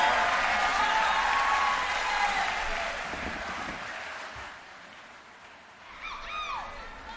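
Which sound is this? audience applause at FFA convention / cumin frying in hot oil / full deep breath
audience applause at FFA convention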